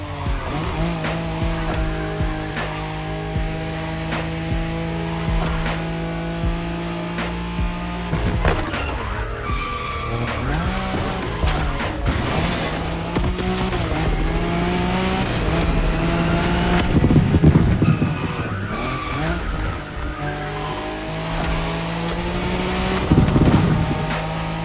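A Nissan Skyline in The Crew Motorfest races along the Tokyo Bayshore route, its engine droning loud and steady with tire squeals and skids through corners, rising surges of revving, and game music underneath.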